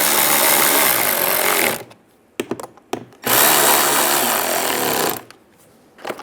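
A power tool runs loud and close, tightening screws during an EVAP core replacement on a 2007-2013 Chevrolet Silverado: two long whirring bursts separated by short stop-start pulses and clicks.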